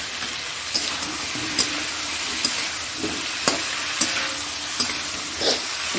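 Fish pieces go into a pan of sizzling curry, steady frying hiss punctuated by regular sharp clacks and scrapes of a spoon stirring, close and loud, without speech.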